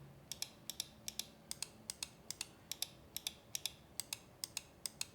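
Gen 3 optical switches on a Razer DeathAdder V3 Pro mouse clicked over and over in a quick, fairly even rhythm, each sharp crisp tick standing out close and clear against a quiet background.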